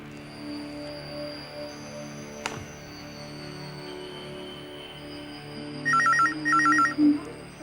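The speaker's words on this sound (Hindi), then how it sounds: "प्लीज फोन उठाना।" A telephone rings in an indoor scene, two short bursts of electronic trilling ring near the end over a steady background hum.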